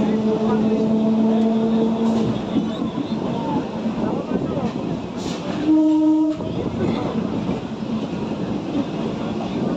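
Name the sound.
train slowing down before entering Krishnanagar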